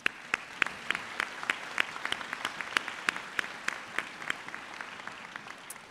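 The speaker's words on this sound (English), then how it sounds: "One more round of applause" Applause from the audience at an optometry graduation ceremony honoring the awardees, with individual sharp claps standing out in a loose, moderately paced rhythm, close and clear without speech.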